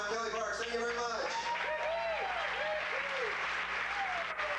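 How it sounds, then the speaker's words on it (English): An audience applauds steadily at a 1994 stand-up comedy guest set in Tucson, a dense sustained clapping that stays loud throughout, with a voice audible over it. "Continue clapping for Kelly Parks."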